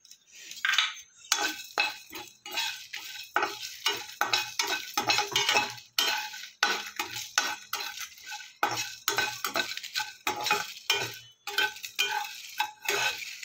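Whole cumin, coriander, bay leaf, cinnamon, dried red chillies and mace are dry-roasted in a kadai, stirred in quick repeated scrapes and rattling clicks with short pauses, close and fairly crisp, with no talking.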